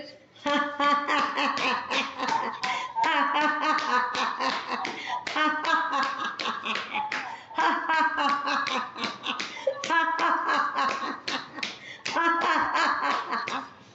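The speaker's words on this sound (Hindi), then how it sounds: "अब ढोलक ताली बजाएंगे, हंसते हंसते बजा लेंगे" Rhythmic dholak-style hand clapping during a laughter exercise, with quick clustered claps in a steady pattern mixed with laughing voices that sound close and lively.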